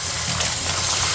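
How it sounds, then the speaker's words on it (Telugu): Running water used for washing brinjals in a kitchen, a brief, loud, close gush from a tap that flows steadily for about a second with no one speaking. "ఫస్ట్ అయితే వంకాయల్ని నీట్గా వాష్ చేసేసుకుందాము"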